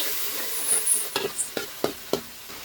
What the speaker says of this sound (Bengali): এখন এই মশলাগুলোকে ভালো করে ভেজে নিচ্ছি